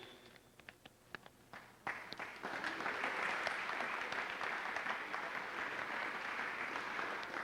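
A crowd applauds at a 1992 high school academic awards ceremony: a few scattered claps at first, then the whole audience joins in a sustained, even round of clapping heard from a distance.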